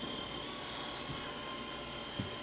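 A helicopter flies low over a corn field, its rotor and turbine giving a continuous, even whir that fills the whole stretch, moderately loud, with a couple of faint thumps and no talking.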